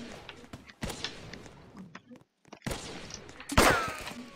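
Gunfire in a Roblox first-person game comes in short cracking bursts with gaps between, a louder volley near the end, mixed with quieter game noises at moderate volume.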